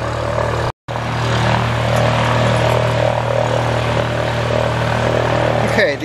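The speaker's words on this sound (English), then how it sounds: "there's an airplane in the background." A propeller airplane drones steadily in the background, a continuous low engine hum that holds the whole time beneath nearby workshop sounds during a job relining aircraft brakes, with a brief dropout near the start.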